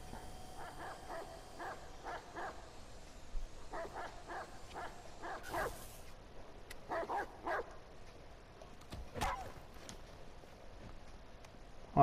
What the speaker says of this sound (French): tais-toi le chien.